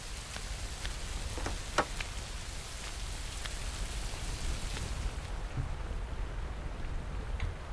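Rain falls steadily in the video game Rising World, a constant hiss of drops with scattered louder taps and a slight drop in brightness toward the end.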